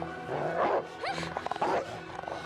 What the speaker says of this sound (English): That's no ordinary vicious dog.